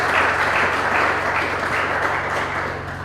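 Audience applause at a French-speaking game event in Lubumbashi, a steady even patter of clapping from a crowd, moderately loud and continuous throughout.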